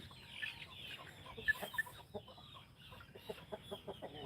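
Farm roosters clucking nearby, a scattered run of short soft clucks and chatter with a couple of sharper squawks, fairly quiet with no one talking.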